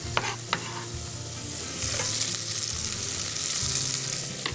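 Sliced garlic cloves sizzle in a pan for mushroom soup, a loud, close, continuous frying hiss that swells in the second half, with a couple of clinks near the start.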